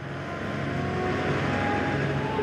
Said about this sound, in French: Les camions ont repris la route dès la première heure.